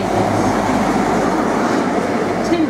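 A Great Western Railway Class 43 HST with eight coaches, on a service to Paignton, makes a loud, continuous rumble and roar of running wheels and engine with a faint high squeal near the end. No one speaks.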